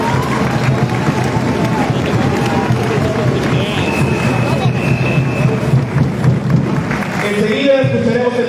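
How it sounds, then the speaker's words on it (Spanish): Broad, sustained crowd applause with a busy, mixed-in roar of voices fills a state political forum in Colima, loud and continuous for about seven seconds before thinning out near the end. "Un fuerte aplauso, por favor."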